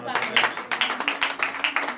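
A congregation at a morning prayer service claps in a brisk, rhythmic pattern, many hands keeping a steady beat, moderately loud with faint voices underneath.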